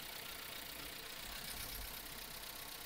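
A 2015 Nissan Juke 1.2L engine idles with one cylinder's ignition coil connector unplugged, misfiring under P0300 and P0304 faults, giving a steady, rough, close low rumble with no talking.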